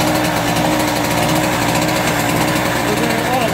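A Harbor Freight generator engine fitted with a catalytic converter runs at a steady, buzzing, rattly pitch, close and loud throughout.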